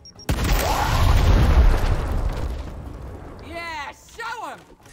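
A frag grenade detonates in the video game Gears Tactics, a sudden loud booming blast that rolls and decays over a couple of seconds, followed by voices shouting in the game.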